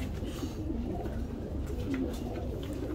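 Pigeons coo in a racing pigeon loft in Dubai, a low, continuous, overlapping murmur of soft throaty calls that fills the space without pause, with no voices heard.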